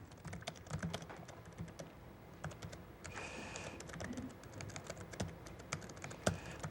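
Someone types a software test on a computer keyboard, producing a fast, irregular run of soft key clicks, close but faint, against a quiet room background with no speech.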